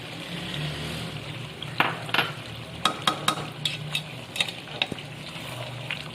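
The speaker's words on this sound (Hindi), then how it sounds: "ये जो मैंने साबुत हरी मिर्ची ली थी ये डाल देंगे" Ginger and whole green chillies stir-fried in a mutton karahi give a soft sizzle, then a run of sharp scraping clinks as a spoon works the pan, close and without talk.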